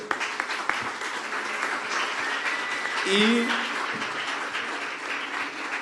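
An audience at a public debate event applauds a guest who has just been introduced. Sustained crowd clapping fills the room, with voices and brief whistle-like tones rising over it.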